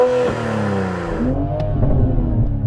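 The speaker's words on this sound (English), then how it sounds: "Let's have a listen to the Supra." A Toyota GR Supra engine revs up loud and close, its pitch sweeping down then climbing again before settling into a rough, throbbing idle, with one short sharp click partway through.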